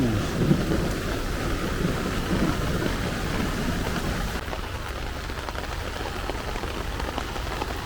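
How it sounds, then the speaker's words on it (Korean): Heavy rain pours steadily beside a stream on a wet day, a dense close hiss with low thunder rumbling through the first half before the downpour eases slightly and continues alone. "비 너무 많이 맞았다"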